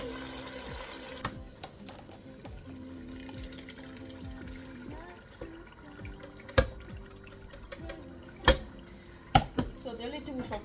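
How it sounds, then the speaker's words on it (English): Tomato sauce is poured into a pot of oily jollof rice base, a soft, thick liquid glug and slosh with a few sharper splashes, while a voice talks intermittently. "So now we can pour our tomato sauce on it."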